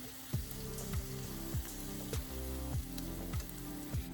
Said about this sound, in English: we just want to sear each side till it's a nice golden brown